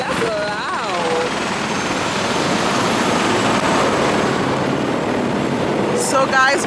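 Loud, continuous helicopter cabin roar during a Las Vegas ride, with voices rising briefly over the engine at the start and again near the end.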